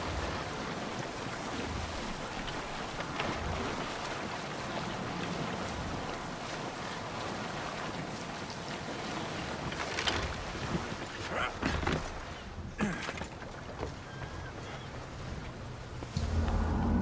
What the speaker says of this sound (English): This boat's not meant for deep water.